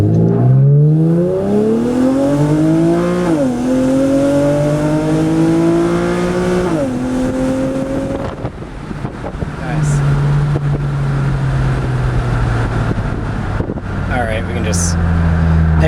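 A 2008 Infiniti G35 sedan on a tuning run, its engine revving loudly up through several gears with rising pitch and shift drops, then settling to a cruising drone, with voices speaking inside the car.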